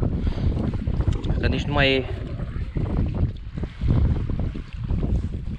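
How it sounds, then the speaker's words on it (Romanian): Strong wind gusts roar and buffet the microphone steadily at a fishing lake during crucian carp fishing, while someone talks over it. "ce vânt s-a stârnit"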